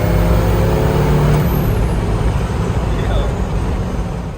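A turbo diesel-swapped Datsun 240Z accelerates hard on the road, its loud, close engine roar steady throughout, with a faint rising whistle high above and voices partly blended into the din.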